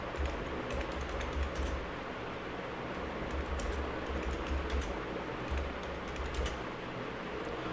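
Quick, light clatter of keys on a computer keyboard, steady bursts of close typing with short pauses and a soft background hiss, no talking.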